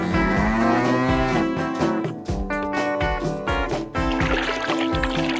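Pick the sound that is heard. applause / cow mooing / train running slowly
cow mooing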